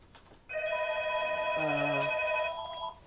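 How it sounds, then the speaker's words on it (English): A phone rings with a sustained electronic tone that kicks in abruptly, briefly adds a lower chime in the middle, then cuts off near the end. No voices are heard. "Phone call."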